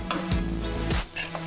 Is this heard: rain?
no